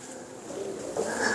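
A pet shikra pigeon gives a brief, soft cooing call, close and low, rising slightly toward the end of a short moment.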